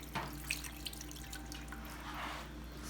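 Tap water trickles and drips faintly and steadily into a sink while raw fish is rinsed for a Haitian fish dish, with no voices.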